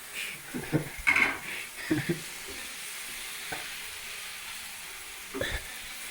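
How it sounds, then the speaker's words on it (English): Drained pasta and mushrooms tonged into a pan, with a soft sizzle under several clattering stirs and scrapes, louder bursts early on and a final stir near the end. "I just tong them out straight into the pan."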